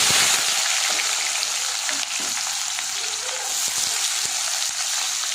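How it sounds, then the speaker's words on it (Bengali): Chopped onion, whole garlic cloves, dried red chili and tomato fry in oil for a Bengali dried fish dish, a loud dense sizzle with occasional stirring clicks, close and unbroken. "এবারে নেড়ে চেড়ে ভেজে নেব।"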